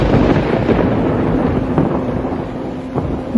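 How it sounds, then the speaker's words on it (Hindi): Thunder rumbles through a Hindi cartoon as a sky crackles with magic-summoned lightning in the rain, a loud, sustained low roar with a few sharper cracks, no voices. "अपने हाथों से जादू करते ही आसमान में बिजली गरज उठती है"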